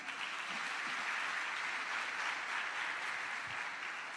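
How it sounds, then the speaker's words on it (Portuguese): A church congregation applauds in a steady, even wash of clapping that fills the room at a moderate level from start to finish, with no voices rising above it. "Dá um aplauso a Jesus."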